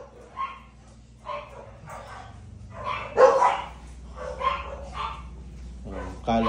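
A dog barks repeatedly in a house under renovation, a string of short, fairly close barks and yips spaced about a second apart over a low steady hum.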